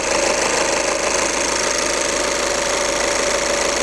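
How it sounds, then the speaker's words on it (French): A VW Scirocco 2.0 TDI 140 hp diesel engine idles steadily after a timing belt replacement, a continuous loud, even clatter with no pauses and no voices. "Et le moteur tourne parfaitement."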